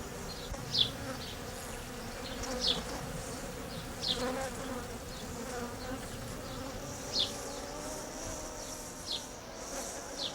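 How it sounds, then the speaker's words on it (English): Bees buzz beneath a canopy of Rosa mulliganii in Sissinghurst's White Garden, with a steady insect hum and several brief, louder passes of individual bees flying close by, and no talking. "to hear the bees sing the praises of this most beautiful"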